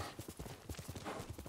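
Horse hooves clip-clop steadily on the ground in Ghost of Tsushima, an even trotting rhythm that stays fairly close and moderately quiet, with no talking over it.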